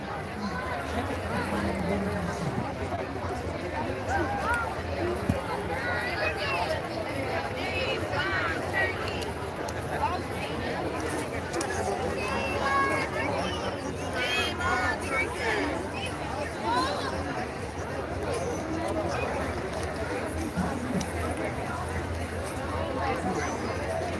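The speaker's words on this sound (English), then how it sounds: "Here's the crowd." Crowd at a street protest in Armenia, a steady outdoor babble of many voices at moderate distance, continuous and fairly even throughout with no single voice standing out.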